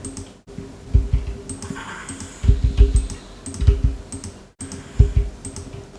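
Keys clack on a computer keyboard in short irregular bursts of typing with brief pauses between, close and moderately loud over a quiet room hum.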